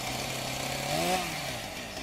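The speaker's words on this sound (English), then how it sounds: "Chainsaw." A chainsaw in the Trash Night video game runs steadily for a couple of seconds, its rough motor drone briefly rising in pitch midway as it revs, loud and close.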